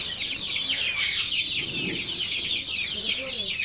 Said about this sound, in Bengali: লেয়ারের বাচ্চা স্যার নিতে চান নিতে পারেন